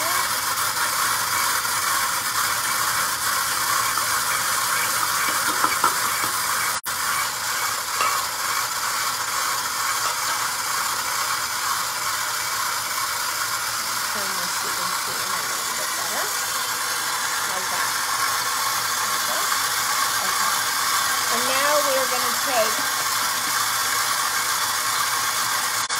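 An electric mixer runs steadily, creaming sugar into ingredients in a bowl, with a constant close whir throughout and faint voices under it.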